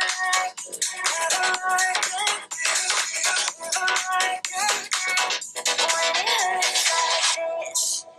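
Music with a busy, bright mix plays steadily through a Sony Xperia 1 III smartphone loudspeaker, fairly loud and continuous for several seconds.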